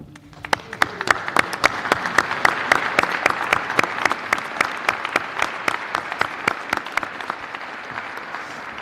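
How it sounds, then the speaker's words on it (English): Student athletes and coaches at a press conference give a loud round of applause, with a dense crowd wash punctuated by many sharp, evenly spaced nearby claps that persist throughout. "I'd like all of our student athletes and coaches to stand up and give our support system a round of applause"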